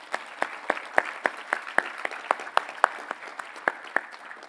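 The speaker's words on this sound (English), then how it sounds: "Can we give another round of applause for all our speakers?" A small audience at a debate event gives scattered, thin applause for the speakers, with individual claps sounding out in a loose rhythm at a moderate distance.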